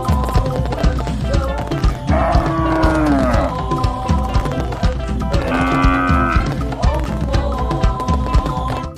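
Two long cow moos sound over cheerful, rhythmic background music, each one drawn out and fairly loud.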